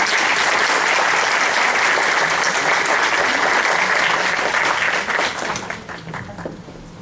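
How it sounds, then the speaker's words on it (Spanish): Audience applause at a psychology conference, a dense, loud wash of clapping that holds steady and then thins out and tapers in the final two seconds. "Un aplauso a los que participaron por tiempo"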